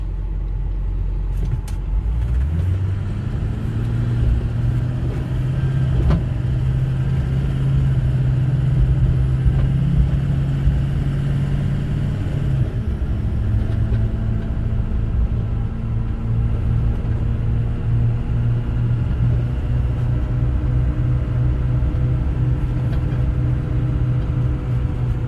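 A 2009 Ford F-450 DRW 2WD diesel truck with 153k miles drives and shifts gears, a steady loud engine rumble rising in pitch, then dropping and climbing again after a gear change, heard from inside.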